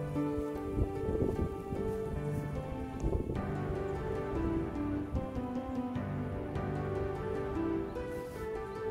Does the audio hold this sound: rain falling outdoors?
yes